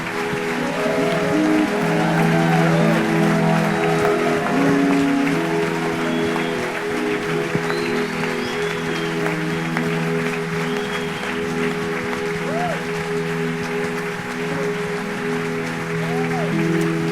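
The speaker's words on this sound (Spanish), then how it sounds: "Dale un fuerte aplauso." A Pentecostal church congregation applauds steadily and at length during a service, a dense continuous clatter of hands with voices mixed in.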